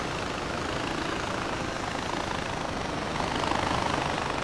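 Aircraft engine in the video game Far Cry 4, a loud, continuous whirring drone heard up close, holding steady throughout with no talk over it.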